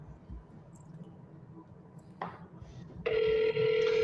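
A phone call is dialed and then hung up, with a faint click, a brief tone blip, then a steady electronic telephone tone close by, and no speech.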